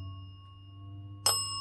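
A single bright bell ring at a haunted satanic angel statue, sounding suddenly and ringing on over a steady low electrical hum in a quiet room.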